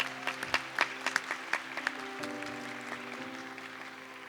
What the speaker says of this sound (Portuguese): vai e aplaude, dá um sorriso e aplaude.